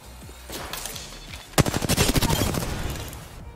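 Gunfire in a squad-based shooter video game, scattered distant shots at first and then a sharp, loud burst of rapid automatic fire that rattles on for a couple of seconds.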